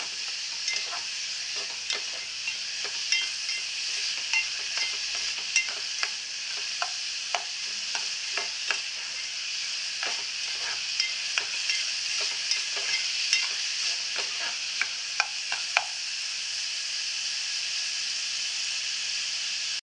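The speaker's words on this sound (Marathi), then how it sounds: "लालसर होईपर्यंत परतवायचं आपल्याला" Onions sauté in a pan for a Malvani-style prawn chutney, giving a steady close sizzle broken by repeated scraping stir strokes throughout, with no talking.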